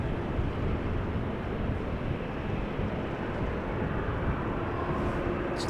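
Transavia airliner lining up on runway 18 left at Amsterdam Schiphol, a steady distant engine rumble with broad wind-like noise and no other distinct events.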